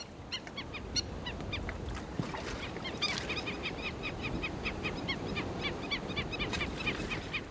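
Sea birds call over a salt pond on Saint-Barth in the Caribbean: a faint, steady stream of repeated honking cries, many birds at a distance, with no one talking.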